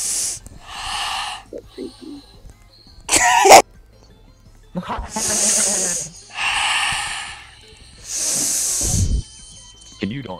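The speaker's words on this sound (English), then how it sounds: "Can you not sniff my boyfriend?" Loud, close sniffs and snorty breaths blast through a Roblox voice chat microphone in repeated bursts, broken by short gaps and mixed with hissy, distorted vocal noises.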